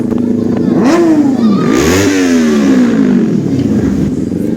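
A Kawasaki ZX-6R sport bike on a highway revs hard, its high-pitched engine climbing and dropping in repeated sweeping pulls, loud and close, with wind rush around it.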